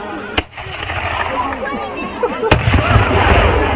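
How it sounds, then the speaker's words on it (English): Two sharp cannon blasts, one early and one a couple of seconds later, ring out over a murmuring outdoor crowd at a Robert Kett plaque unveiling in Wymondham, 1999. "The cannon's now ready to fire."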